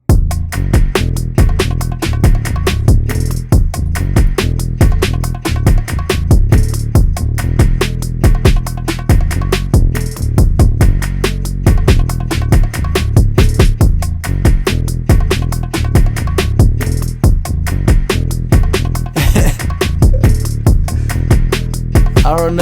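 Heavy, punchy 808 bass hits stutter rhythmically through a loud, dense music mix, with sharp percussive transients throughout.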